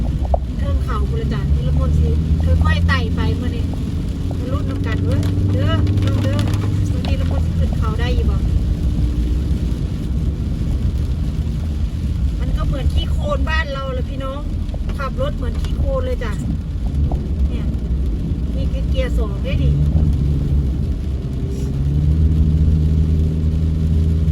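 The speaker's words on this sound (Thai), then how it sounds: "รถใหม่ของบริษัทจากโฟวิลเลอร์ปีนเขาโดยเฉพาะจ้ะ แต่ไม่รู้มันจะขึ้นได้ไหมมาลุ้นด้วยกันเนาะ" A new four-wheel-drive car's engine labouring up a steep, muddy mountain road, a steady loud drone with shifting pitch, wind buffeting the microphone, and voices talking over it.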